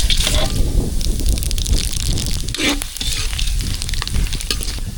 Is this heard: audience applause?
no